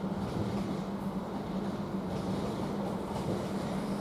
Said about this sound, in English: Now we should be getting the Lumo coming into shot here. Not Lumo, LNER, sorry. 11:13 from Leeds to London King's Cross service.